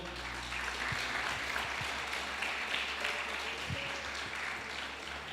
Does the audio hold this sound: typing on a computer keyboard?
no